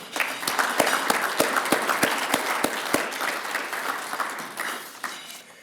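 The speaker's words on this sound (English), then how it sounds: "Round of applause for our mayor if you could." Audience applause for Virginia Beach Mayor Bobby Dyer at a Central Business District annual address, a dense steady wash of many hands clapping with a few sharp individual claps standing out, sustained throughout and slowly tapering.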